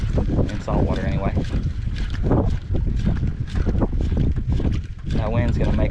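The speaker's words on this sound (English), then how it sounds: "And that wind is cold." Cold wind gusts loudly across an open boat during saltwater speckled trout fishing at a bad low tide, a steady rough buffeting roar that fills the whole stretch, with people talking over it.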